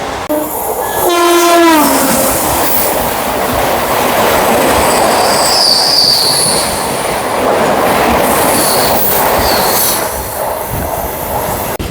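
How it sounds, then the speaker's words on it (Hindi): A superfast express train from Lucknow to Yesvantpur passes an Indian passenger train going the other way, heard from on board with a loud horn blast, then a sustained rushing roar, wheel clatter and squeal for the length of the crossing. "लखनऊ से चलकर यशवंतपुर जाने वाली सुपरफास्ट एक्सप्रेस, जो अपने साथ क्रॉस करेगी अभी अपने ट्रेन को"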